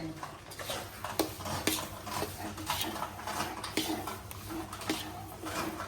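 Flour roasting in ghee for mohanthal, stirred without pause in a pan: a steady close sizzle with regular scraping ticks from the spoon.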